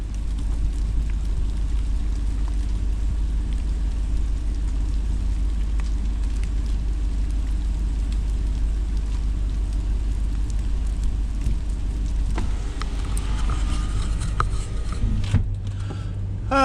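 Sleet falling through ice-coated trees during an ice storm, a steady fine ticking patter over a low outdoor rumble, continuous and moderately loud, with a brief rustle near the end.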